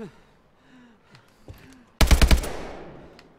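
Rapid automatic gunfire from the Call of Duty Advanced Warfare campaign erupts as a loud, dense burst after a quiet stretch of faint game effects, then trails off into a decaying echo.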